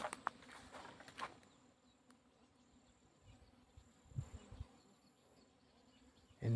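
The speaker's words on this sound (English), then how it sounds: "If I go in this side, I'm hearing a bee, sound of bee." Bees buzzing near a wall outdoors on a nature walk in Africa, a faint steady drone with brief louder passes, alone with no talk.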